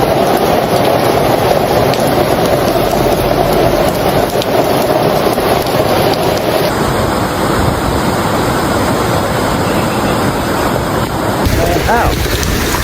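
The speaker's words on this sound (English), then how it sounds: "Flooding caused by heavy rains in Mission Valley and throughout the city of San Diego" Heavy rain pours down during flooding in Mission Valley, San Diego, a steady, loud, unbroken hiss of rainfall that fills the whole stretch without pause.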